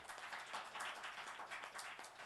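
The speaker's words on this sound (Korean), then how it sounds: "우리 다음 저들이 축복의 박수 한번 줘줍시다" A church congregation claps and applauds steadily, dense overlapping hand claps at a moderate, even level.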